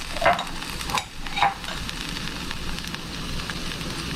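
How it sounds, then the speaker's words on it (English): Gentle sizzling of food in a pan on low heat before pesto is added, with a few clinks and stirring scrapes early on, otherwise a soft steady crackle. "now that everything's kind of just sizzling on a low"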